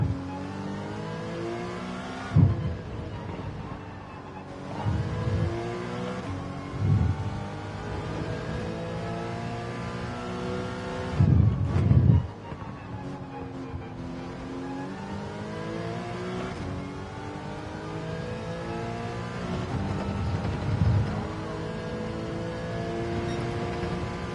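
Race car engine in Gran Turismo 7 at Interlagos, a steady loud drone rising and falling through gears as revs climb and drop repeatedly through corners, with brief downshift blips, continuous throughout with no talking.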